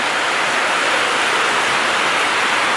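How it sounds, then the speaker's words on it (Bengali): Heavy rain pours steadily outside as a dense, loud, unbroken hiss that fills the scene from start to finish without any voices. "ঝেড়ে বৃষ্টি পড়ছে"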